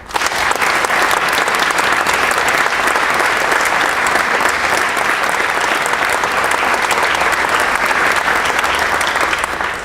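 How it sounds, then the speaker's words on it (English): Sustained, loud applause from a large audience at a distinguished alumni award dinner honouring the awardees, a dense, steady roar of clapping that holds for the full stretch without a break. "Let's give them a big round of applause"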